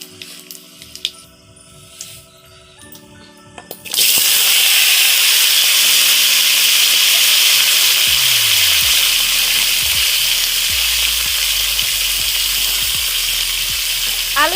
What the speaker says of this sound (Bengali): কালো জিরা দিয়েছে দেখো এখানে তেলের মধ্যে